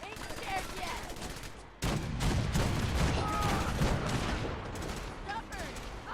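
Ship cannons fire in a naval battle video game featuring the USS Constitution, a dense run of booming gunfire blasts that rolls on steadily for several seconds, loud and close, with a voice speaking over the barrage.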